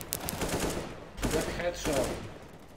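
Gunfire in the shooter game CS:GO: a few sharp bursts of shots, including rapid automatic fire, with low muffled voice sounds mixed underneath.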